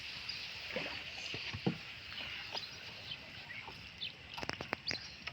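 A small wooden boat being rowed or poled on a village waterway. Faint, intermittent paddle splashes and knocks are heard, with birds chirping in the open air and a louder cluster of knocks near the end.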